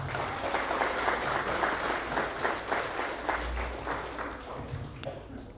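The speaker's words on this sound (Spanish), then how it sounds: "Un aplauso para los nuevos." Steady applause from a Spanish-speaking Bible class congregation welcoming first-time attendees, a moderate roomful of clapping that gradually thins and fades toward the end.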